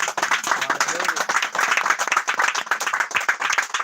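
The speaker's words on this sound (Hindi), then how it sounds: "परमेश्वर के लिए जोरदार ताली बजा दीजिए" An audience at a live church service claps loudly and continuously nearby, dense applause with many hands overlapping throughout.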